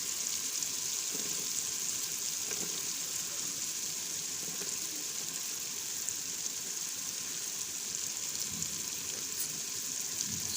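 Potatoes being fried in spiced masala in a pan give a soft, continuous sizzling hiss, faint and steady throughout, with no one speaking.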